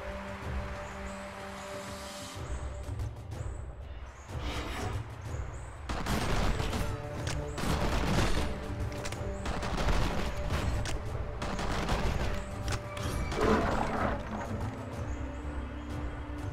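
Gunfire in the arena brawler Battlerite during AI match play, a dense run of sharp shots and bursts that thickens after the opening seconds and keeps going steadily, loud and close.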